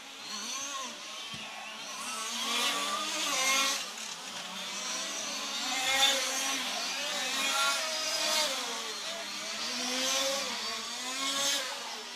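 Large-scale RC touring cars race at a European championship qualifying session, their small engines whining and buzzing continuously, rising and falling as they pass at moderate distance.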